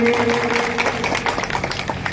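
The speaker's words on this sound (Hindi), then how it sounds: "आप लोग जोरदार तालियों से स्वागत करें" An audience at a hospital foundation-stone ceremony applauds loudly to welcome the local MLA, a dense continuous patter of many hands heard close, with faint voices underneath.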